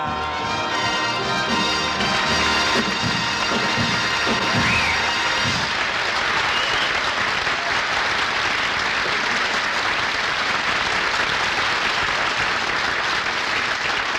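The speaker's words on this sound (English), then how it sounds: "Hoagie, I could even hear the applause." Studio audience applause on a vintage Jack Benny comedy radio broadcast, rising after a brief musical passage into a loud, sustained, dense wash of clapping that fills the remaining time with no talk over it.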